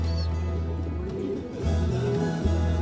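Turkish tumbler pigeons coo in low, rolling throaty calls from cages full of birds, a steady layered murmur with faint chirps over a continuous indoor hum.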